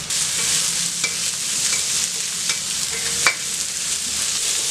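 Green peas and onion sautéing in a pan for carrot poriyal, a constant close sizzle broken by scraping stirs of a spoon against the metal and an occasional sharp clink, with no voices.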